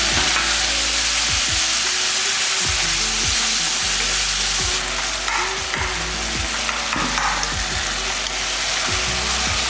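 Tomatoes and onions sauté for a curry in a pan, a loud, continuous close sizzle with repeated scraping strokes of a spoon stirring through the mixture.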